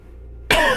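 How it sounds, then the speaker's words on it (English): A single sudden, loud cough bursts out after near silence from a player in the middle of a multiplayer Magic: The Gathering Duels 2015 game, harsh and close to the microphone. "Coughing like crazy."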